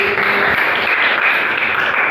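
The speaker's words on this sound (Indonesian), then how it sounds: "Ya, tepuk tangan untuk dulu." Applause from an audience during a teaching assessment session, a dense continuous wash of clapping at even loudness throughout, with no voices over it.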